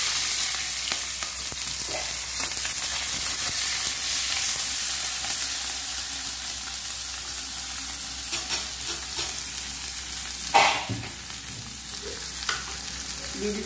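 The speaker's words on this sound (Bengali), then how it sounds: "এই বেরেস্তার জন্য" Onions sizzle steadily in hot white oil in a kadai for beresta, with occasional stirring scrapes and one louder clatter near the end, continuous and close with no talking.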